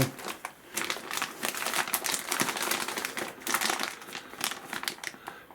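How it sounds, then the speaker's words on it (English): Plastic packaging around a Kyosho Javelin model car crinkles and rustles continuously up close, loud and crackly, with no voices. "Oh, plastic bag."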